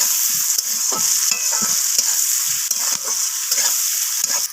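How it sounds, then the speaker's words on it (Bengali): Sliced onions with two bay leaves fry in hot oil, giving a steady loud sizzle broken by a few soft stirring scrapes of a spatula in the pan. "পেঁয়াজটাকে আমি লালচে করে ভেজে নিচ্ছি একটু"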